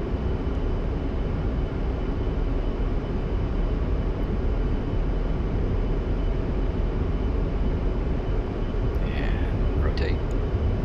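A-10C II jet's engines roar in a steady, loud, unbroken drone during takeoff at Creech Air Force Base in the DCS flight simulator, with a few faint chirps near the end.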